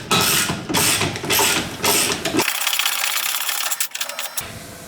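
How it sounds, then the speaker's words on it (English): Ratchet turning a bolt snug while fitting an angle kit to a BMW E36, heard up close as a steady series of dense mechanical clicking bursts, loud and continuous with brief pauses between strokes. "I end up using this technique with a ratchet and a wrench on top, and then I'm gonna tighten this all the way snug."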